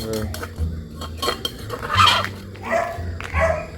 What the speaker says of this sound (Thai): เปิด หม้อ